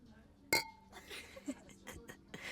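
Drinking glasses clink once in a bright, sharp toast aboard a Disney Fantasy cruise ship, followed by soft chuckles and quiet talk nearby.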